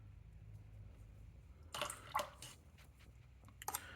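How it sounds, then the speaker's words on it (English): A paintbrush dipped into water while painting a patched GP30u model gives a few short, close wet swishes and taps, spaced out over a quiet background with no speech. "I'm just dipping my brush into water"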